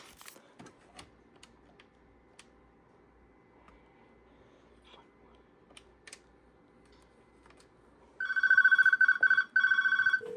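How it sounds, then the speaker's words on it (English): A desk IP phone on a 3CX business phone system rings in two loud, close electronic bursts near the end, after a long quiet stretch with faint scattered keyboard clicks. "This phone is ringing."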